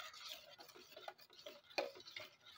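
Roasted cumin powder being stirred into a raw mango mixture with a spoon, giving soft, quiet scraping and clinking strokes in a loose rhythm, close by with no talking.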